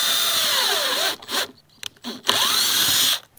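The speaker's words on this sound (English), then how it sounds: "I run a screw into the wood" A power drill whines as it drives a screw into wood as a pilot hole while installing windows on a kids' playhouse, running in two bursts with a short stop-and-start pause between them, close by.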